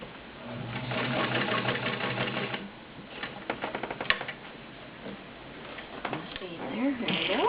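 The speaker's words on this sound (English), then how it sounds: "Nice stitch on 6 layers of denim. This is 10 layers of cotton." A heavy-duty 1.2 amp Kenmore Model 65 sewing machine stitching through layers of denim and cotton, with rapid mechanical chatter in two running bursts broken by ticks and clicks, under a voice talking.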